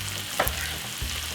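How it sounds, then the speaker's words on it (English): Corned beef and vegetables sizzle steadily in a frying pan, with a brief clatter of food being added or stirred near the start and a soft thump later. There is no talking. "put a few of them inside of the frying pan like that with those lovely veg"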